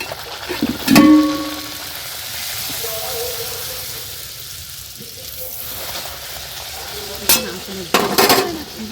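Luchi flatbread deep-frying in hot oil, a soft bubbling sizzle under background voices, with louder clatters of stirring and turning near the start and end.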